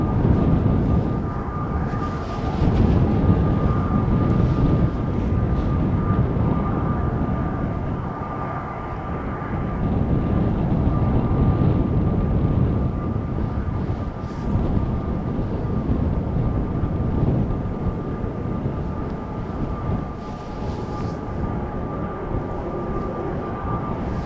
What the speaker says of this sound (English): Now there's also a 777 on the move going to Willemstad, Curaçao. Very likely that that one is going to depart from over here.